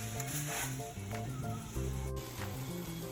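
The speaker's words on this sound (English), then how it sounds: "Time to add the ground beef and some salt." Ground beef with salt frying in a pan, a soft steady sizzle and crackle running throughout, faint and close, with some clatter of stirring.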